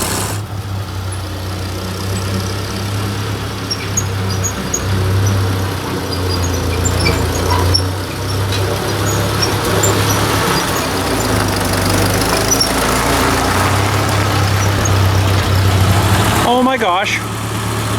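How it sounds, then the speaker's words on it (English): A Ford 2N tractor engine runs steadily at a loud, close idle with a rough, pulsing low rumble, with a person speaking briefly over it and a clunk near the end. "What a fantastic tractor."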